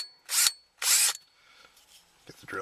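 A power drill whirs in two short, loud bursts while boring a hole in a Subaru automatic shifter, followed by quieter handling noises.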